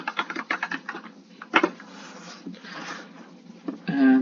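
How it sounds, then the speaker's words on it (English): Rapid clicking of keys on a computer keyboard as a login search is typed, a close burst of taps followed by a pause and a short second flurry, ending with a brief tonal computer sound. "So I'm going to type here"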